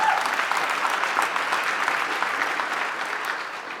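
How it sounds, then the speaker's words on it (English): A dinner audience at a summit closing celebration breaks into a steady round of applause, dense clapping sustained evenly throughout, with faint voices mixed into the crowd. "yes, that's a round of applause"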